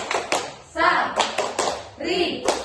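A group of children does a rhythmic chant-and-clap routine, sharp hand claps landing in quick bursts between shouted chant lines, loud and close in a classroom practical setting.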